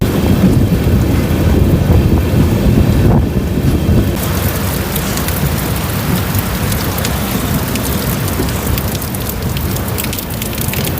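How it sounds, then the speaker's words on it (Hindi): Heavy rain pouring down at a railway junction station, with thunder rumbling: a loud, continuous hiss of rain on surfaces with wind buffeting the microphone and no talking. "बारिश ने यहाँ पे थोड़ा सा हालत ख़राब कर दिया फिर।"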